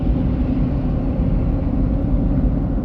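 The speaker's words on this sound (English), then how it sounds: "there's probably some background noise from me on the highway" Steady low rumble of road noise from a car driving on a highway, constant and loud across the whole stretch, with no talk.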